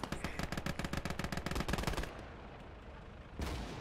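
A Lafette MG42 machine gun in the Gates of Hell WW2 strategy game fires a rapid, even burst of about two seconds, then stops and leaves a quieter rumble before a brief swell of noise.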